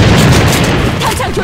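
Frag grenade blast in the online shooter A.V.A, a loud, deep booming burst that rumbles and decays over about a second and a half, close and heavy, with a game voice callout mixed in.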